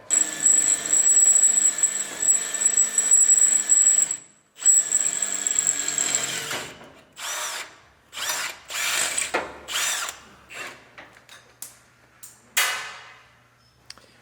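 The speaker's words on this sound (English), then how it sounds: "where Nick has to drill into the truck" Power drill boring into the body of a Ford Raptor pickup during a suspension install, running steadily at first, then cutting in a string of short, separate bursts with brief pauses between them, close and loud.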